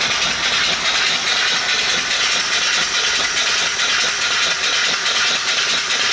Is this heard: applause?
no